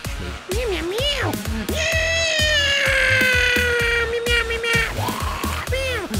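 A Siamese cat in a Minecraft animation meows loudly and close, several long, wavering, drawn-out calls over a faint rhythmic clicking underneath.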